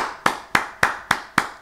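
A church congregation claps in praise: six sharp, evenly spaced claps at a brisk steady beat, close and distinct, with no talking.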